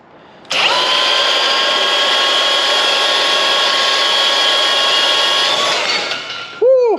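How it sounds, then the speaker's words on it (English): A cordless bandsaw cuts through metal stock for a DIY gate, giving a steady, loud whining drone that holds for about five seconds before winding down, followed by a brief clunk. "cordless bandsaw, makes cutting stuff like this super easy"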